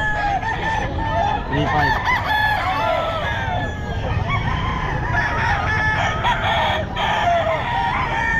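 Sweater gamefowl roosters crow repeatedly amid constant clucking and crowd noise at a busy pet market, with people talking over the birds throughout.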